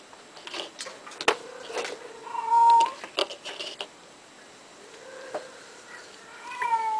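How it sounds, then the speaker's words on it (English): Checkers, a house cat, gives several distinct meows, short and drawn-out, close by over quiet room noise, with scattered small clicks and knocks between them. "crazy kitty."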